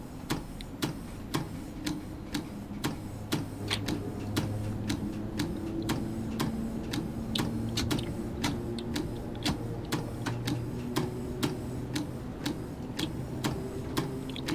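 Rain ticking against a train cab windscreen on a London Underground Bakerloo Line run in Train Sim World 2, a steady stream of sharp, regular taps over a low rumbling drone of the train.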